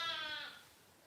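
Sheep bleating inside a lambing shed, one loud, drawn-out bleat close by that fades away within about a second, with no talk over it.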